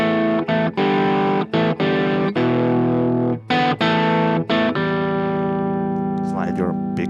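Chunky distorted electric guitar plays a choppy rhythm riff, short muted stabs between sustained chords, ending on a ringing held chord.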